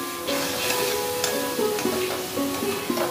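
Parboiled pumpkin and ridge gourd frying in a pan for a dal chhakka, with steady sizzling and repeated scraping strokes of a spatula stirring the vegetables; no talking.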